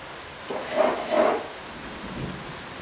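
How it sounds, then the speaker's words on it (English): A small summer thunderstorm rumbles in the background, two soft rolls of thunder building and fading over a faint hiss of rain, distant and fairly quiet. "If you listen in the background, you'll hear one of the lovely little summer thunderstorms we get around."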